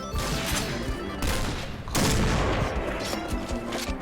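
UMP45 submachine gun fire in the Point Blank shooter game, a loud, dense fusillade of rapid shots running through the whole stretch with a sharp burst near the middle, no talk over it.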